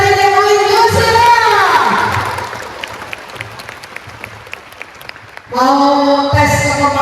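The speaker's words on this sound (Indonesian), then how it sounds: "Beri tepuk tangan buat adik-adik UIN Jusila." An audience of UIN Jusila students applauds at an Islamic outreach gathering. Broadband clapping fills the middle of the clip, and an amplified voice speaks at the start and again at the end.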